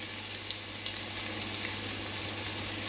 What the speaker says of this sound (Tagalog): Ngayon po, maglalagay po tayo ng bawang.